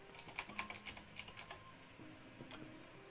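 A short burst of computer-keyboard typing while entering a word into a fantasy online game, a handful of crisp separate key clicks in the first half, then quieter, close and fairly faint.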